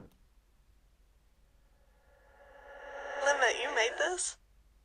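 A producer tag's reverb tail played backwards swells up from silence into a rising, smeared vocal wash that peaks and then cuts off abruptly, heard alone against a quiet background.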